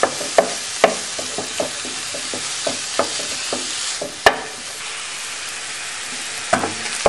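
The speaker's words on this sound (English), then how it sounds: "the first step is browning your meat" Meat browning in a pan for potato chop, a continuous sizzle broken by regular scraping and tapping strokes of a utensil against the pan, close by with no voices.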